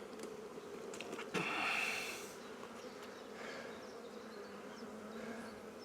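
Honeybees buzz steadily on a hive frame during a spring colony split, forming a constant close drone with a brief louder rustle early on and no talking.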